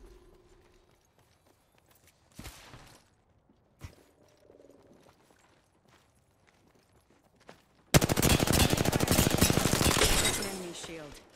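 Charge rifle gunfire in Apex Legends arrives as a loud sustained burst of shots late in the clip. Two short, fainter bangs and sparse game sounds come before it.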